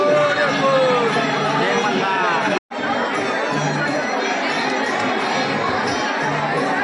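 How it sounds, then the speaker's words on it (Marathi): A dense crowd chatters and murmurs at the temple at Jejuri, a continuous babble of many voices nearby with scattered shouts, briefly cutting out before the hubbub resumes. "भरपूर गर्दी झालेली आहे"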